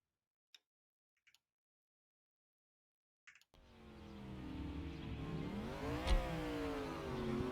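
An American car with suicide doors has its engine started and revved after a few faint clicks, the engine roaring up with one sharp rising rev peak before settling into a loud sustained drone.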